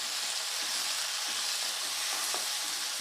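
Onions and tomatoes frying in a pan for sambar, a steady close hiss and sizzle throughout with faint soft stirring scrapes, no talking.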